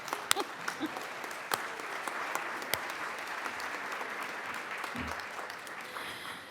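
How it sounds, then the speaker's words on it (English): An audience at an employee awards ceremony claps steadily for several seconds, a soft, distant, even patter of many hands with a few sharper nearby claps. "We need to do a clap, clap"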